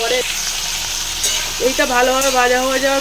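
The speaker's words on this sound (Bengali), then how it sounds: "চলো ভাজা হোক।" Vegetables fry in a hot pan with a loud, continuous close-up sizzle, and a person speaks briefly over it near the end.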